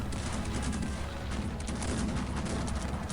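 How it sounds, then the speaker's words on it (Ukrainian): Rapid volleys of cannon fire and musketry from a large battle in the strategy video game Cossacks 3, a dense continuous barrage of booms and crackling shots filling the scene without pause. "О, мій союзник його розбиває, просто розбиває. Гарматами, так, і сяк."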